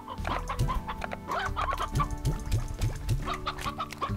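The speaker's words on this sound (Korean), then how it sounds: "닭이 여기 많은데? 주변에?" Chickens cluck steadily in the Slime Rancher video game, a busy cluster of short clucks and squawks layered over a constant game soundtrack and ambience, with no one talking.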